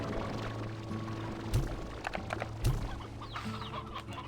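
Chickens cluck on a ranch in the video game Slime Rancher 2, several birds overlapping in steady close chatter with a couple of brief louder squawks and no speech.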